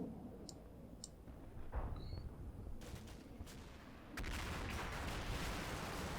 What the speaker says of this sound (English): That BTR is firing ABHE at that